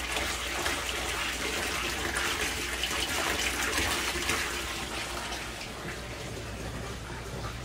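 Water from a pond pump pours steadily into a 55-gallon barrel filter, a loud, continuous rushing and splashing close by with no break and no talk.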